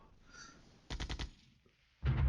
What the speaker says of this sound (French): Alors ils sont engagés par les mitrailleuses de nos chars.